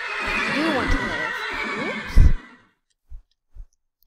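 A horse in a modded video game lets out a loud, close whinny with wavering pitch, followed by a few soft thumps and then near silence.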